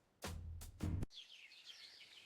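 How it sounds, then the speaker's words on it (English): Birds chirp and twitter in a park by the water, bright, warbling calls running steadily after two short loud bursts of noise at the start, moderately close. "The birds, they're so loud and clear today."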